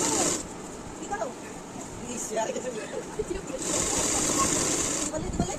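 Sewing machine stitching a sleeve onto a kurti, running in a steady close whir with brief pauses and restarts, while someone talks over it.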